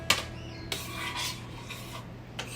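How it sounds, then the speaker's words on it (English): A spoon scrapes and clinks against a pot while stirring meat, onions and garlic for baked ziti, with a few distinct scrapes and a low hum underneath, no talk. "go ahead and stir it real good"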